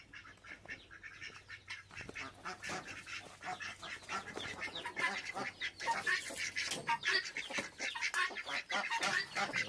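A flock of chickens squawks and clucks continuously, many birds calling at once, growing busier and louder over several seconds.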